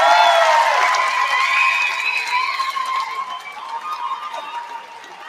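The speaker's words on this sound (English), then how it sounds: "give the biggest round of applause tonight to these two women" An audience cheers and applauds the two women finalists of a Super 4 final, a dense crowd roar that is loudest at the start and then slowly fades.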